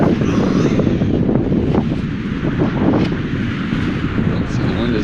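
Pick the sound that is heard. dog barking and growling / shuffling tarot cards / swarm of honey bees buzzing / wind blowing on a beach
wind blowing on a beach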